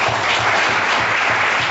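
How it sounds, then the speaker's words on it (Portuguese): A church congregation claps together in a steady, dense burst of applause during a worship service, with no speech heard. "Então aplauda o Senhor Jesus Cristo."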